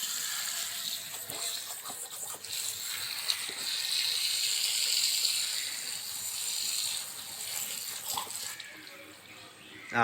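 Water runs steadily from a garden hose used for watering plants, a continuous broadband hiss and splash heard up close for the full length.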